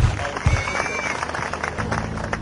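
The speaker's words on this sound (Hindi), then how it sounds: "लईज़ ज़मान इम्मू के लिए बहुत सारी तालियां" A studio audience claps for a guest on a 2012 Geo TV talk show with Alamgir. The applause is a dense, steady patter that fills the room for the whole stretch, with some background sound mixed in.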